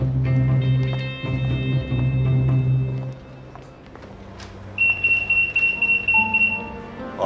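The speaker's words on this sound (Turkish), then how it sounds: "Alarmları unuttunuz herhalde içinde." A shop's anti-theft alarm goes off as a shopper leaves, sounding as a loud steady electronic tone followed by higher piercing beeps, with footsteps and the bustle of the store around it.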